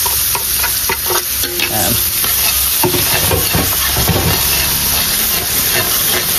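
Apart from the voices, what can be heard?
garlic and onion sautéing in a pan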